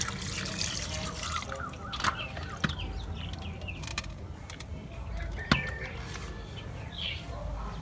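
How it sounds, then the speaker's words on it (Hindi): Water splashing and trickling as fish is rinsed by hand in a village setting, with occasional sharp knocks and clinks, birds faintly in the background. "तो पानी से हमने मछली को एक दफ़ा धो लिया है।"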